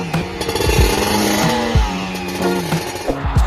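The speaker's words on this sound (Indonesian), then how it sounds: "mesin 2 tak" A two-stroke engine runs loudly with a buzzy, raspy note, blipped repeatedly so the pitch jumps up and falls back in short, choppy bursts, up close and with no talking.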